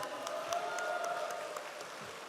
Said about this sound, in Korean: 다시 한 번 더 우리 김은혜 국회의원님께 큰 박수 부탁드리겠습니다